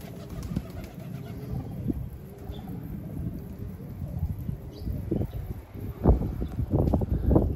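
A young pigeon coos faintly and intermittently amid low rustling and shuffling nearby, quiet and somewhat muffled, with no clear talking.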